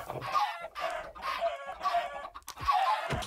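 Chickens cluck in the video game Minecraft, a run of five loud, close clucking calls in quick succession with short gaps between them.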